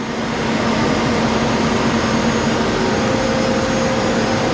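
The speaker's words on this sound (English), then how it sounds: "look at the size of these exhaust fans. These are basically throwing in excessive amounts of air to feed these huge engines" Large exhaust fans roar steadily in the engine bay of a Majesty 100 Terrace yacht, pushing air to feed its huge engines; a loud, continuous broadband rush with a low hum, close and alone.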